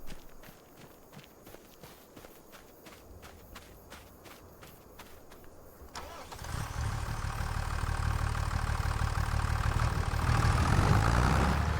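A tractor in Farming Simulator 25 on the Riverbend Springs map starts as light footsteps and clicks, then its engine rumbles in and idles steadily, a low, close drone growing slightly louder toward the end.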